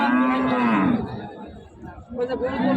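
Cattle at a border-area livestock market moo loudly and close, two drawn-out calls over a steady murmur of crowd voices.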